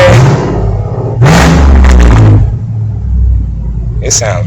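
A 2006 Chevrolet Trailblazer SS engine, repaired after an intermittent no-start fault, rumbles at idle and then revs loudly in two bursts before settling back to a deep idle, close by.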